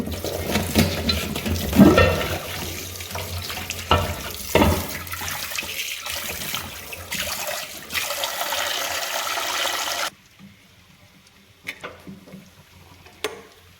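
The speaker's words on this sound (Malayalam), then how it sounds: "ചട്ടി കഴുകാം" Tap water runs hard into a sink while a frying pan is washed in a kitchen, steady gushing and clatter for about ten seconds, then the flow stops, leaving quiet with a few faint knocks.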